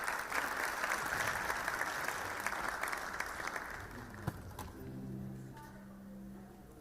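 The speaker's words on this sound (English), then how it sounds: "Can you please give him a round of applause?" At a youth crime prevention gathering, the audience gives a presenter a round of applause. The clapping is dense at first, then thins and dies away after about four seconds into a quieter room with a low hum.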